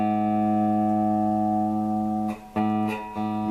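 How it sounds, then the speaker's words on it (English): Electric guitar, an Ammoon Stratocaster with new strings gone flat, tuned by plucking sustained single notes that ring steadily, then a brief muted gap and a re-plucked string, close and moderately loud with no talking. "You don't need to sit there and listen to me tune the guitar."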